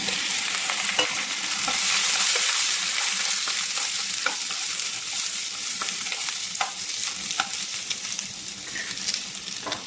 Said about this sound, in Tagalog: Let's simmer it for a while.